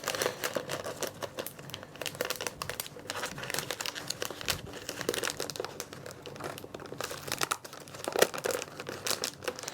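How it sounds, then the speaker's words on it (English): Plastic film crinkles and rustles continuously as it is tucked and pulled through, close-up, in dense irregular crackling bursts. "So pulling that film through, a little bit of a kink here"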